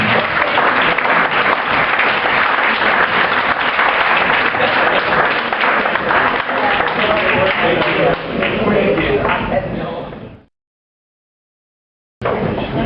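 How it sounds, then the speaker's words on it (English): Sustained applause from diners at a 2010 community recognition awards banquet in Tipton, loud and continuous with some voices in the room, cutting off abruptly near the end before a brief return. "let's give him another round of applause."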